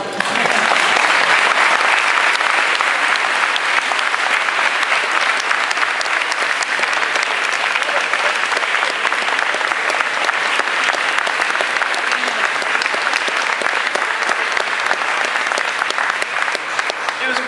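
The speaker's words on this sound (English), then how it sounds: "I think we should all give him a big round of applause to show him that we are very proud of him." Loud, sustained applause from a large audience honoring a speaker's father at an evening dedication ceremony, a thick unbroken roar of clapping that holds steady throughout.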